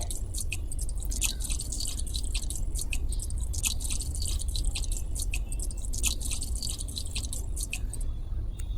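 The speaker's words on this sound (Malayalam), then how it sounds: "നമുക്ക് ഈ പെട്രോൾ ഒഴിക്കാം" Petrol pouring and dripping in a steady wet trickle with a low constant hum underneath, no voices, in the video game Granny.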